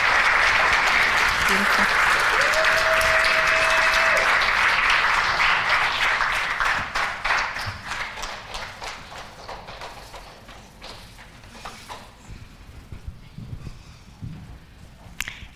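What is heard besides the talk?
audience applause for authors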